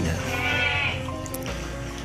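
Goats on a goat farm in Kejobong, Purbalingga let out a wavering bleat, loud and close, followed by quieter farm background and a brief clatter.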